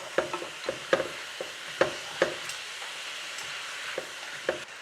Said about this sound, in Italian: aggiungo i fiori e mescolo